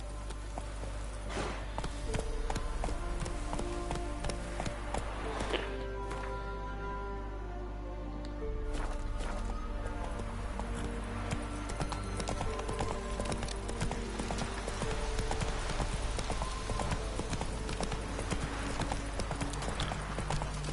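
Roach the horse gallops in The Witcher 3, hooves clip-clopping in a steady, loud rhythm throughout, with game ambience and music beneath.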